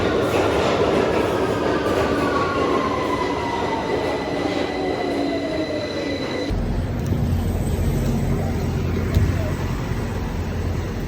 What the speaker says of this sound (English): I'm gonna get my train before it leaves without me